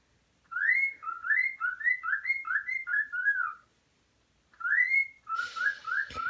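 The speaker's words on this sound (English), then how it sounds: "for those of y'all that always hear that noise in the background, that is my cockatiel Herbie" A pet cockatiel named Herbie whistles a quick run of rising and falling notes, pauses, then returns with more whistles and chirps. The sound is close and clear in a quiet room.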